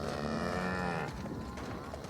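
A woolly cow moos in The Outer Worlds, one long, loud, drawn-out low call lasting about a second, then fading into a quieter tail with ambient game sound behind it.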